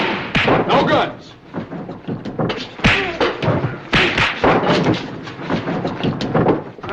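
A fist fight in an old Western drama, a rapid series of heavy punches, thuds and bodily slams, close and loud, with grunts and scuffling between blows.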